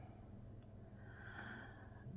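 A sleeping dog snores lightly nearby: a single soft, breathy snort-like snore, faint and alone in a quiet room.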